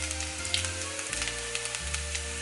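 Egg chow chow rice sizzles and fries in a pot as it is stirred, a steady close crackle with a low hum and a few soft scraping accents throughout.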